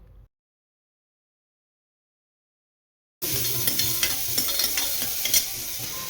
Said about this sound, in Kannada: ಒಂದು ಕುಕ್ಕರ್ಗೆ ಸ್ವಲ್ಪ ಎಣ್ಣೆ ಹಾಕ್ಕೊಂಡು ಅದಕ್ಕೆ ಸಾಸಿವೆ, ಕರಿಬೇವಿನ ಸೊಪ್ಪು, ಈರುಳ್ಳಿ, ಹಾಗೆ ಅರ್ಧ ಟೊಮೊಟೊ ಇತ್ತಲ್ವ ಅದನ್ನೂ ಕೂಡ ಹಾಕ್ಕೊಂಡು ಫ್ರೈ ಮಾಡ್ಕೊಳ್ತಾ ಇದ್ದೀನಿ